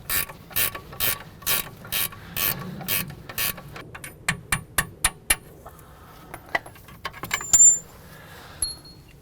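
A bolt turned out of a spring mount on a SsangYong gives quick, evenly spaced ratchet clicks, close and crisp, that slow into scattered single clicks and a few metallic taps.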